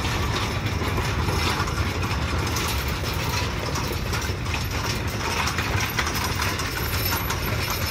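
Kyosan Kogyo locomotive no. 2 at a sugar mill rail yard, coupling up loaded sugarcane lorries: a dense, continuous mechanical clatter and rumble with rattling, ratchet-like metallic chatter, loud and steady without pause.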